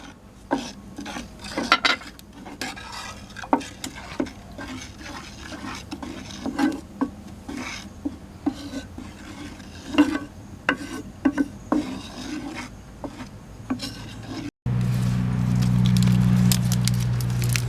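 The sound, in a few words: stirring coconut milk and flour mixture in a pot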